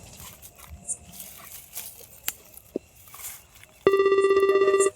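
A telephone rings loudly near the end, a rapid electronic trill that cuts in abruptly after quieter room sounds with faint movement, in a rural household setting.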